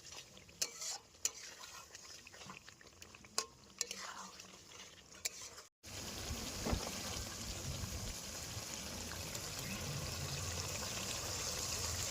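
In a village kitchen, water is poured into a pan of frying Afghani egg curry to make gravy. Scattered stirring and clinks give way to a sudden, loud, steady hiss and bubbling that continues to the end.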